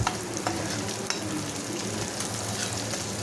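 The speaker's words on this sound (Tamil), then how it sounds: "கைவிடாமல் நல்லா கலந்து விடத்தான் பூண்டு வெங்காயம் எல்லாமே வதங்கி வரும்." Garlic and onion sautéing in a pan for garlic chutney while being stirred continuously, giving a dense close sizzle with a few quick scraping strokes and no talking.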